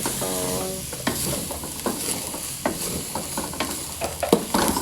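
Chili being stirred in a sizzling pan for Indonesian nasi goreng, with steady frying hiss under repeated scraping and tapping of a spatula at close range.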